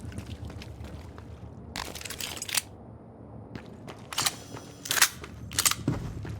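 Video game gunfire: a few separate bursts of sharp shots, the first long and dense, then three shorter volleys closer together, loud over a low droning background with no talk.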